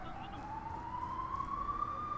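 A faint ambulance siren wails from a distance, one long steadily rising tone as the vehicle passes, over low background rumble.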